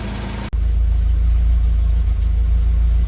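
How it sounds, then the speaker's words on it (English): A car engine with twin SU carburettors idles steadily after a brief cut, a loud, close, even low rumble with a smooth, regular beat. "And here we can see the carbs idling nicely around lambda 1-ish."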